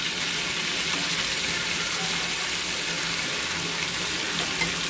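Surmai fish slices shallow-frying on their second side in a pan, a steady close hiss of sizzling oil running unbroken throughout with no pauses.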